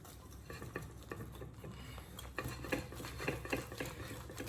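Whisk stirring a buttery mixture in a bowl for apple streusel cake, a quiet, busy run of rhythmic scraping and clinking that grows slightly stronger toward the end.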